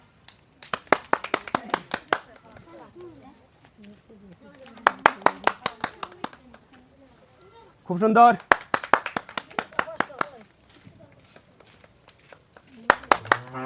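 Enthusiastic rounds of applause for players of a rural ping pong ball throwing game, with several bursts of rapid clapping separated by a host talking, all close and fairly loud.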